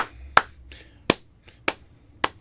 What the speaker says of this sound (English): They're doing a clap rhythm there